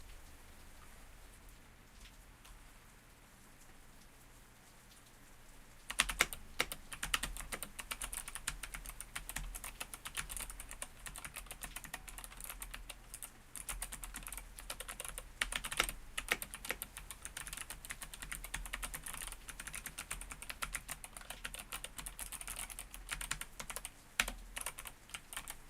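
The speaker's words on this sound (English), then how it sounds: "Maybe the sound of the keyboard will be soothing." Steady, continuous typing on a PC computer keyboard picked up by a nearby microphone during a relaxed ASMR stream, a quiet lead-in followed by dense, rapid clicking keystrokes that continue without pause, with no talking over it.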